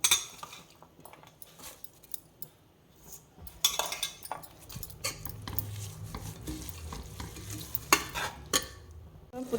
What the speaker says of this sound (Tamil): இப்போ நம்ம கட் பண்ணி வச்சுருக்க புதினாவும் மல்லியும் சேர்த்துக்கலாம்